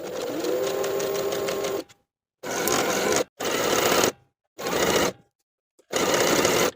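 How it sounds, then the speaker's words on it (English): A home sewing machine runs a narrow zigzag stitch along knit cardigan sleeves with a 1/2 inch seam allowance, heard as five close, steady bursts of rapid stitching separated by short silent pauses. "Then we can sew both of our sleeves in place from underarm to underarm with a 1/2 inch seam allowance"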